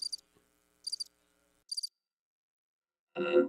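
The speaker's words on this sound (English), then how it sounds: "Crickets, which I often have on my show." Three short high-pitched cricket chirps spaced evenly apart in near silence, followed by a brief burst of a different lower sound at the end.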